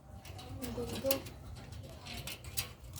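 Racing pigeons at a derby loft coo softly in a low, murmuring flutter, faint and close, with a person speaking over them.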